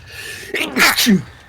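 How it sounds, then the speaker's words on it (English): A single loud, close sneeze with a sharp intake of breath, then a forceful burst. "I was sponsored to sneeze"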